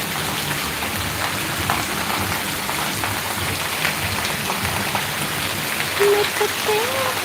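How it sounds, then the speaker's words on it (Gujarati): Steady heavy rain pattering on surfaces, a dense continuous hiss throughout, with a faint voice near the end. "જો વરસાદ કેવો આવ્યો"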